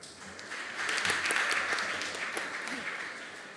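Audience applause at an inter-school quiz competition between New World School, Atomic Hills and SOS Herman Gmeiner in Tamale, a soft, fairly distant patter of clapping that swells and then fades over a few seconds.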